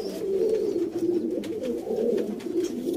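Sialkoti pigeons coo continuously nearby, overlapping low throaty warbles rolling on without pause, with faint rustles and flutters in the background; no talking.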